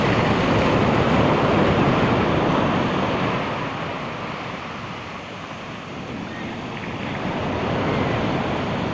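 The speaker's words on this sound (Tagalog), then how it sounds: "The Talolora Beach. Big waves, Palapag, Northern Samar." Big ocean waves roll onto Talolora Beach in Palapag, Northern Samar, a loud, continuous roar of surf that swells, eases in the middle and builds again, with wind buffeting the microphone throughout.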